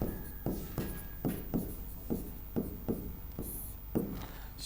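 Pen or chalk writing Hindi words by hand, a rhythmic series of about nine short scratchy strokes evenly spaced, close up and quiet with no speech over it.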